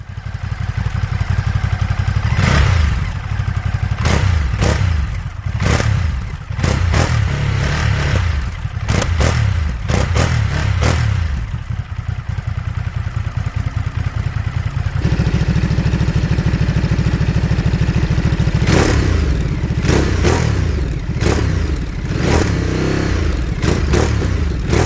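A motorcycle on its old stock exhaust system revs loudly in repeated sharp bursts, with a steady idle rumble between them and no voices.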